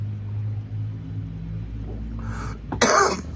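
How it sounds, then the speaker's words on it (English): A single sharp cough bursts out near the end, preceded by a brief throat-clearing rasp, over a steady low rumble. "Excuse me, I'm going to cough."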